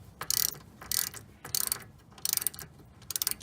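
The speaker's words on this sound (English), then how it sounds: "After you loosen the bolt" Ratchet wrench loosening the top brake caliper bolt on a Lexus/Toyota during pad replacement, six quick bursts of rapid clicking in a steady rhythm, close and fairly quiet, with no talk.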